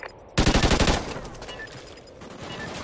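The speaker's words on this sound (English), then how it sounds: "Dude, was that bullets?" A loud, close burst of rapid automatic gunfire in Call of Duty: Ghosts, about half a second of rattling shots, followed by fainter scattered fire and game ambience.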